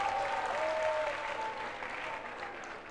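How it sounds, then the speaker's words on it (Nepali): Steady applause from an audience at a Miss Purwanchal beauty pageant in Nepal, a dense wash of clapping that stays loud throughout and eases off slightly toward the end. "ती नारीको लागि फेरि हामी एक जोरदार ताली दिन चाहन्छौँ अनुराधा कोइरालाको लागि।"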